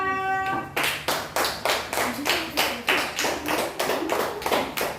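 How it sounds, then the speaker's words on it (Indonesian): Small classroom audience claps for a presenting group in a steady rhythmic beat, about a dozen evenly spaced unison claps after a short opening tone, close and moderately loud. "Tepuk tangan untuk kelompok 2"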